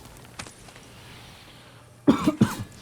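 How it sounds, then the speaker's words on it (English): Quiet room tone, then two sharp, close coughs in quick succession near the end. "Sorry for the coughing, guys."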